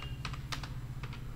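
Computer keyboard keys pressed in quick clusters of clicks during Tally accounting software work, close and fairly loud over a steady low hum, with no talking.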